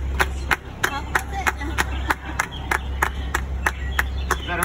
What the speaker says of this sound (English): Everybody clap, clap, clap, clap, clap, clap, clap, clap.